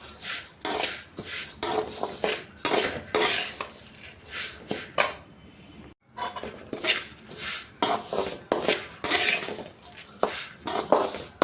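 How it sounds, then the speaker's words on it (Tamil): Raw rice and urad dal being dry-roasted in a pan, a metal spoon scraping and clinking against the pan in a steady run of close, busy strokes, pausing briefly midway, with no talk. "கழுவி வளர வச்ச பச்சரிசியும் உளுந்தையும் வானலில் சேர்த்து நல்லா வறுத்து எடுத்துக்கலாம்"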